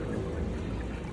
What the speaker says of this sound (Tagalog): Kita nyo, bumabagsak yung tubig.